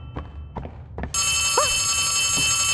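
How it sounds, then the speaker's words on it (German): A telephone rings inside the horror video game Poppy Playtime, a steady, loud electronic trill that starts suddenly after a few soft footstep-like thuds and continues without pause, with brief tonal blips over it. "Da ist es. Das Telefon."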